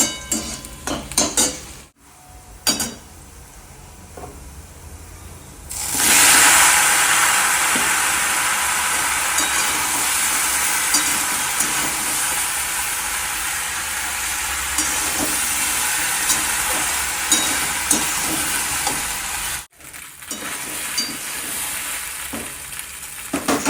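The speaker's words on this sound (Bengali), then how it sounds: "আর লঙ্কা একটুখানি ভাজা ভাজা করে পাস্তাটা একটু নাড়াচাড়া করলাম।" Chilli frying and pasta being stirred in a pan, with a loud, steady sizzle and hiss that swells suddenly and holds for most of the span, plus occasional scrapes and knocks of the spoon against the pan.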